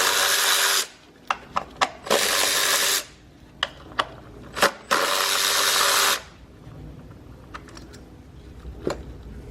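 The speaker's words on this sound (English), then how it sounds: "we want to take out these 4 bolts" A power tool spins out bolts on a Hyundai Sonata Hybrid engine during spark plug work, in three loud bursts of a second or so each, separated by sharp clicks and clinks of tools and parts; close by, no talk.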